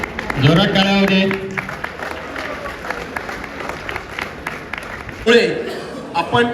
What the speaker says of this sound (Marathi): जोरात टाळ्या होऊ दे